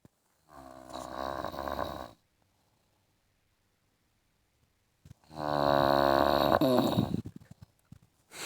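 A person snores loudly in two long, rough, rattling breaths, each lasting a couple of seconds and separated by a quiet pause, close and unaccompanied by talk.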